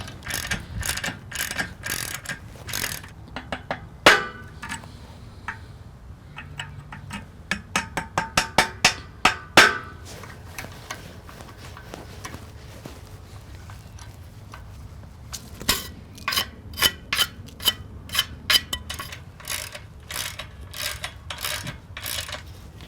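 Drilled holes for nut holders on a large bandsaw mill carriage being threaded by hand with a tap, giving bursts of rapid ratcheting clicks separated by short pauses, close and fairly loud with no talking.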